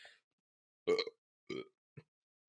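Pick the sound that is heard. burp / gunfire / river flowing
burp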